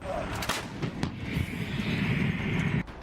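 155 mm howitzer artillery firing: several heavy booming blasts with sharp onsets, followed by a loud sustained rumble and roar, fairly close.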